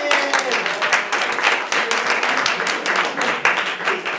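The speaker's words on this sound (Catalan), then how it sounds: "Aixeca un aplaudiment!" A studio audience at a Catalan television show breaks into applause, a dense wash of clapping with voices mixed in, steady and moderately loud across the moment.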